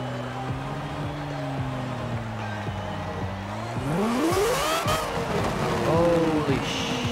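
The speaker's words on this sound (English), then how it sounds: "listen to that high-pitched 4-rotor rotary engine" Four-rotor rotary engine in a Mazda RX-3 inside Forza Horizon 4, droning high and steady, then sweeping sharply upward as it revs hard; a second rising rev follows, with excited talk over it.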